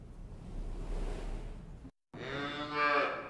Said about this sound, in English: Travis Edwards hopes to keep the cows warm and mooing at Penn State's Dairy Cattle Research Center.